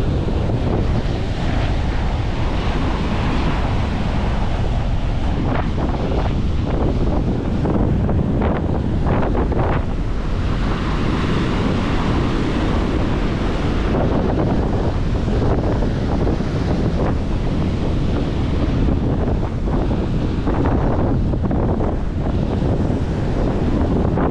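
Big waves crash and roll at a muddy brown river mouth, a loud unbroken surf roar mixed with heavy wind buffeting the microphone for the whole stretch.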